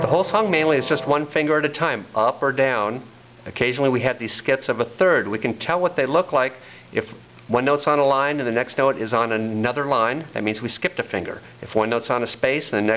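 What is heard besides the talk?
No distinct noise like a dog, phone or traffic.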